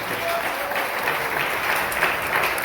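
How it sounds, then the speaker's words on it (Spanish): Steady applause from a church congregation, clapping continuously at a fairly loud level for the whole stretch. "Le damos aplausos al Señor"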